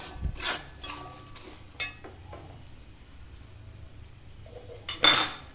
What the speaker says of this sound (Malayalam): അപ്പം ആ മുളക് പൊടി കുറേശ്ശെ ഇട്ട് നന്നായിട്ടൊന്ന് വഴറ്റി യോജിപ്പിക്കുക.